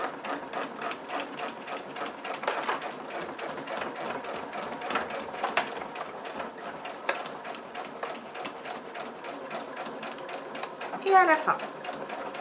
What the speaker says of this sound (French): je vais faire une couture au point droit à 1 cm du bord, ici et ici.